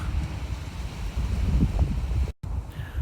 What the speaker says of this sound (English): it is far too windy for this out here.